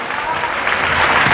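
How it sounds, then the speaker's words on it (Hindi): Loud, dense clapping from a congregation praising the Lord at a religious gathering, continuous and building slightly, with voices mixed in underneath. "ताली बजा के प्रभु के नाम पर महिमा करे।"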